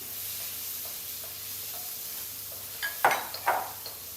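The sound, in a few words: diced onion frying in a pan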